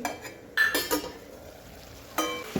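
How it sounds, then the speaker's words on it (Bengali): A lid comes off a cooking pot of tinde with a few sharp metallic clinks and scrapes, scattered across a couple of seconds in a quiet kitchen. "আবার আমি ঢাকনা চাপা দিয়ে দিচ্ছি পর আবারও আমি ঢাকনা খুলে নিচ্ছি"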